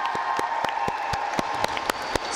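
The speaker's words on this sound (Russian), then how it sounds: "Похлопаем." An audience at a school sports event claps in a sparse, uneven rhythm, distinct individual hand claps over a faint steady background hum.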